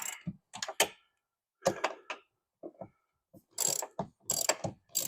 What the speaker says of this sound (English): I also think I should go grab a wrench.